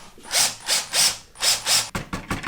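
A power drill whirs in several short bursts, revving up and down in a steady rhythm, followed by a few quick clicks and rattles.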